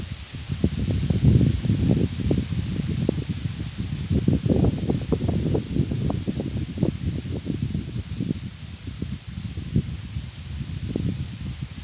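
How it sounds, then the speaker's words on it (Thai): Cold wind blows steadily outdoors, with a continuous breathy rush and gusty rustling of leaves, and no voices heard. "เสียงลม"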